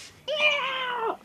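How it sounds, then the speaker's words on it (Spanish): A cartoon cat gives a single drawn-out meow that rises and then falls, lasting under a second, loud and close, with no talk over it. "Ah, es un gato."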